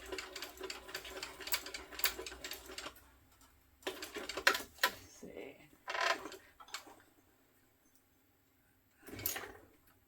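A sewing machine stitches back and forth while sewing over the card slots of a sling crossbody bag, in short bursts of rapid mechanical clatter separated by pauses, close and fairly quiet.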